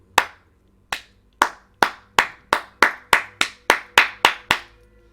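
A single person claps about a dozen times, sharp close slaps with a slow uneven rhythm that quickens slightly toward the end, alone in a quiet room.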